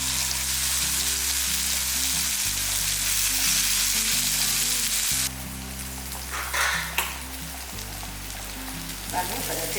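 Plantain slices fry steadily in hot oil in a pan, a dense continuous sizzle that is loud at first and then drops quieter partway through, with a few faint clinks and stirring sounds near the end.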